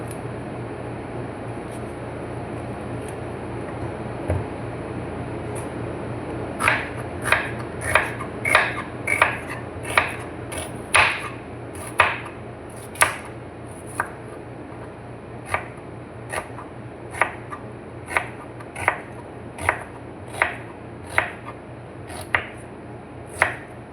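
Onion being chopped with a knife on a board for sweet and sour meat, a run of roughly twenty crisp, evenly spaced chops starting after a quiet stretch, over a steady background hum.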